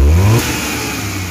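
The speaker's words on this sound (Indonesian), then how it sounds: "Ini kita gas nih. Nah kan langsung responsif kan. Nih kita gas lewat sini." A car engine revs sharply as the throttle is blipped, then falls back toward a steady idle of about 900 rpm. The car has a misfire and shaking traced to a spark plug. The engine is loud and close, and no one talks.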